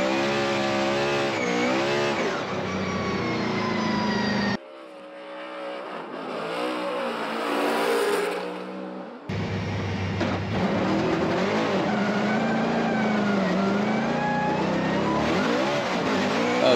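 A drift car's engine revs hard and downshifts on the Formula Drift Seattle track, loud and close, with a brief muffled dip in the middle before the roaring revs and tire noise return at full volume.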